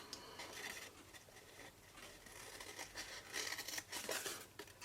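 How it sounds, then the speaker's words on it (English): Scissors snip through paper while a small cube box is cut out, a run of quiet, close crisp cuts and rustles with no talking. "cut that bit away and straight down there"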